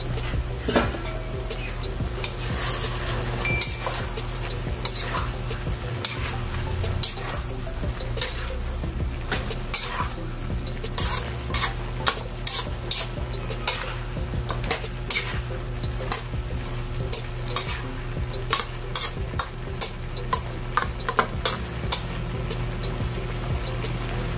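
Ginisang sayote, chayote sautéed with chicken, cooks in a pan with a steady low sizzle, while repeated scrapes and clinks of a utensil stirring against the pan break through close by. No one speaks.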